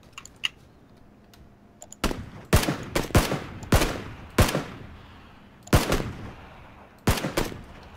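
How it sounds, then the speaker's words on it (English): Gunfire in PUBG, a series of loud, sharp single shots at irregular intervals over a few seconds after a quiet start, with no talking. "Open fire."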